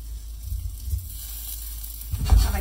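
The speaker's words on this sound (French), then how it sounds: "on dépose les dumplings sur la surface plate dans la poêle" Cheeseburger dumplings set flat-side down in a hot pan give off a steady, soft sizzle with a thin hiss. A louder burst of frying crackle flares up near the end.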